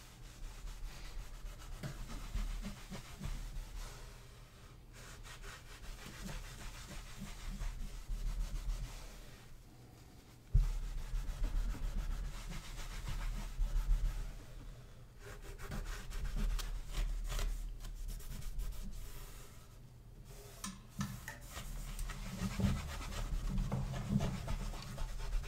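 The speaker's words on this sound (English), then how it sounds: "finish polishing up the Howard Feeding Wax," A cloth rubs and buffs Howard Feed-N-Wax off the wooden cabinet of an Ohm Walsh 2 loudspeaker, making a continuous close scrubbing and swishing that swells and fades in strokes, with no voices.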